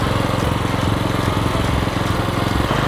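A paddy-ridge weeder's small engine runs steadily while the machine reverses, a loud, constant close-up chugging drone with no pauses and no voices.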